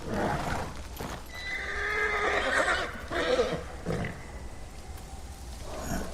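A horse in Ghost of Tsushima whinnies in a long, wavering neigh, followed by snorts and shorter calls, close and fairly loud over a low rumbling background.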